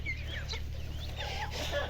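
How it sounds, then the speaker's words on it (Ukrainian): Roosters cluck and murmur close by in a busy, continuous chatter over a low steady hum. "У мене півники красиві і отакі."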